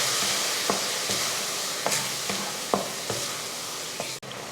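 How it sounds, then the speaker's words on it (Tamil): Tomato masala sautéing in oil for chicken kulambu, a soft, steady sizzle under repeated spoon-scraping strokes at a regular pace, close by with no speech. "இப்போ இது எல்லாம் வதங்கி நல்லா எண்ணெய் பிரிஞ்சு வரட்டும்."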